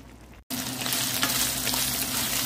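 Pork sizzles loudly in a pan as the broth cooks down for Bicol Express, with a constant close frying hiss and occasional scrapes of stirring after a brief cut to silence.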